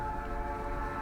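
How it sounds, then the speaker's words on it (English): Train rumbling past in the video game Night in the Woods, a steady low drone with a sustained horn-like tone held throughout, continuous and fairly loud, with no voices over it. "I didn't realize how much I missed the sound of that train"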